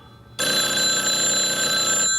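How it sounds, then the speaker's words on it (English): A telephone bell rings loud and close in one sustained burst of bright metallic tones that starts abruptly and stops just before the end, with no voices over it. "Is somebody gonna get that phone?"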